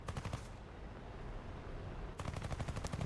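Aircraft cannons on a Hawker Sea Hawk FGA.6 rattle in rapid bursts in a flight combat game, one burst at the start and another near the end over a continuous engine roar.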